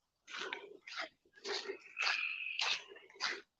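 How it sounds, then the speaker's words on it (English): Tree frogs calling outdoors on a humid night, several raspy pulsing trills in short bursts with one longer sustained call, moderately close with clear gaps between calls. "Little tiny frogs make all that noise, man."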